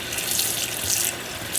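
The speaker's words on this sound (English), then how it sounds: "So what I like to do is I stick them in the sink in some excuse me, in some cold water to kind of wash them off" Cold water pours from a kitchen sink tap over tomatoes being washed, a steady close splashing hiss with no voices.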